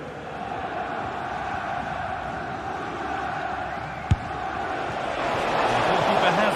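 A football crowd in a video game, a steady distant roar with a rising swell of excitement near the end and a single sharp thump in the middle, under continuous commentary.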